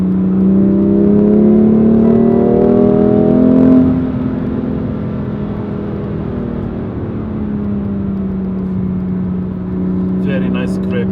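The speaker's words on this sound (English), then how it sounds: "I can hear the turbos pulling more actually." A BMW M2 Competition engine climbs in revs under acceleration with turbos pulling, heard close from inside the car: a loud, steady drone that rises over the first few seconds, eases back to a lower cruising note, then holds with a brief airy whoosh near the end.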